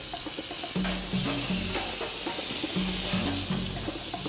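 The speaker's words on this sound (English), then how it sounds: "turn the chops over and grill the same way on the other side" Thick veal chops sizzling on a Grillworks grill with V-shaped grates, a steady loud hiss of fat and juices with occasional crackles and low tonal hums running through it.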